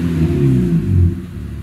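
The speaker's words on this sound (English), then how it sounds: "when you do rev her up, she does sound rather good" A car engine started after a winter lay-up revs up, a loud, close, rumbling rise in pitch that eases back down to idle.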